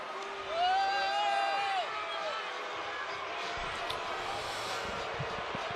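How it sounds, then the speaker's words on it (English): A boxing arena crowd applauding and cheering after a title fight, a dense roar of clapping and shouts throughout, with a few whistles and whoops rising briefly near the start. "Vasiliy Lomachenko takes the crowd's applause tonight."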